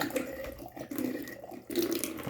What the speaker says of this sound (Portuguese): Aqui já começou a descer a água